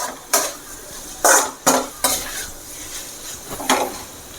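Cluster beans for kothavarangai egg poriyal are stirred in a pan, a spatula scraping and clanking against metal in about five sharp strokes over a soft background sizzle, close up with no voices.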